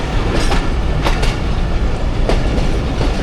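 The Jaffar Express runs steadily along the rails between Attock and Rawalpindi, a loud continuous rumble with repeated clickety-clack wheel beats passing close by.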